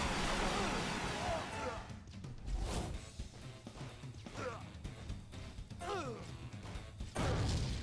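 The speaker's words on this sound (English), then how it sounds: "Launch the missiles." A barrage of missiles launches in The Onion Knights video game, bringing whooshes, mechanical clanks and crashing impacts that layer into a busy, loud battle din with no clear pauses.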